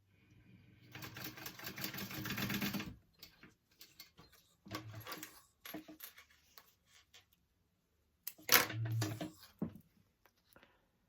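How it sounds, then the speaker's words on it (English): Sewing machine running a short baste stitch along the edge of fabric for a clutch bag, two quick bursts of rapid needle chatter separated by quiet handling noises. "we're just going to do a little baste stitch along the edge to keep that in place"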